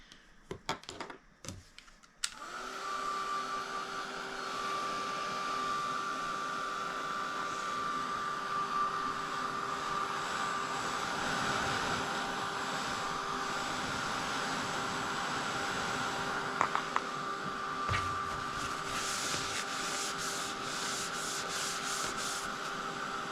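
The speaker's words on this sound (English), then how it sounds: "you can just use a regular hair dryer." A regular household hair dryer blows steadily to dry a watercolor painting of a blue geode, a continuous even whooshing roar lasting well over twenty seconds after a few brief clicks and knocks.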